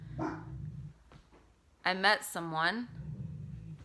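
A pet dog indoors lets out a short, drawn-out bark with a whining edge, loud and near, between stretches of a person talking.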